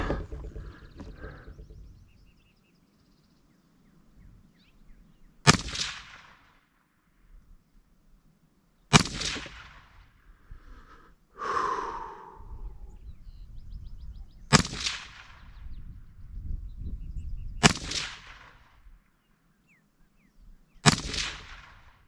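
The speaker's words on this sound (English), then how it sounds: "let's go ahead and shoot 10 of these Winchester Supreme as well" A Heckler & Koch HK300 rifle fires Winchester Supreme rounds, with five sharp, loud reports spaced several seconds apart and quieter handling noises in between.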